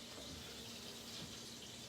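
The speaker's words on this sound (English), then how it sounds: "we're going to put in about 1/4 cup of water" A quarter cup of water is poured into a Thanksgiving appetizer mixture already holding orange marmalade, giving a faint, steady splashing trickle throughout with no talking over it.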